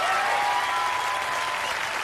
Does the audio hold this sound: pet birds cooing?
no